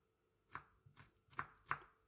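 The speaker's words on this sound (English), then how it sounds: "Cut it lengthwise in half and then chop it like that." A knife chops through an ingredient on a cutting board while macaroni casserole is being prepared. Four crisp, quiet, close-up strokes fall at an uneven pace, with no talk.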